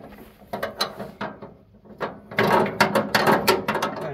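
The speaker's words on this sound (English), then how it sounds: "I use a ratchet wrench." A ratchet wrench turns a nut on a Ford 3000 tractor engine, giving close, loud bursts of rapid metallic ratcheting clicks in uneven strokes, with a brief lull before a denser, steadier run of clicking.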